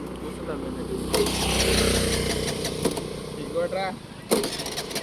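A petrol-starved motorcycle is kick-started: a rough engine churns and sputters close by, with sharp knocks of the kick and a final burst near the end. Voices talk over the effort throughout.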